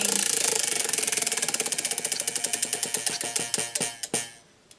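A prize wheel spun to choose a book, its pointer clicking rapidly against the pegs at first, then the ticks spread out and slow to a few last clicks as the wheel comes to rest, close and clear.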